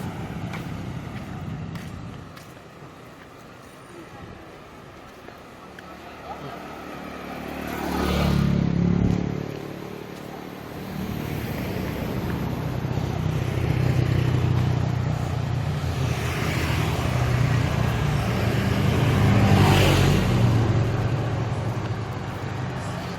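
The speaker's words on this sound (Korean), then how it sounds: "저 오토바이 소리 때문에 진짜 노이로제 걸릴 것 같아요" Steady traffic rumble on a street in Ubud, Bali, with motorbike engines passing and revving, swelling louder twice as vehicles go by nearby.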